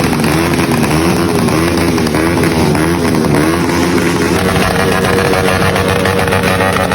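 Motorcycles gathered for New Year rev loudly nearby, their engines droning and rising together in a continuous, overlapping roar with no pauses.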